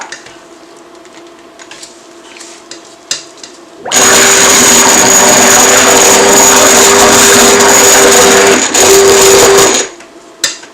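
A blender whirs loudly and steadily for about six seconds as it mixes a batch of sea salt dandruff shampoo bar, with quiet room noise and small clinks before and after.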